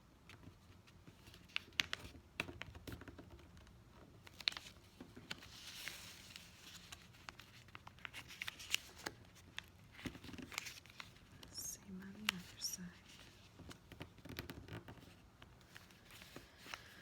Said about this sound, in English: So we'll just be folding this inward.